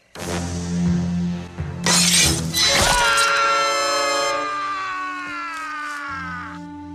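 Glass shattering in a horror movie scene, a pint vodka bottle broken and used as a weapon inside an RV: a loud crash and burst of breaking glass with ringing shards, followed by sustained tonal ringing and music.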